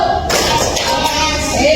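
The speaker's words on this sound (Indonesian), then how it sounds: "Kalau tepuk 1, tepuknya 1 kali." A classroom of third-grade pupils claps hands once together on the teacher's count, a single sharp burst of many hands followed by a lingering room rumble.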